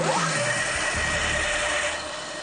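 Home-built earthquake test machine with offset plates on slightly misaligned welded shafts, running steadily with a loud, dense mechanical whir and rattle, alone.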